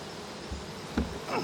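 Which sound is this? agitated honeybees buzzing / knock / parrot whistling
agitated honeybees buzzing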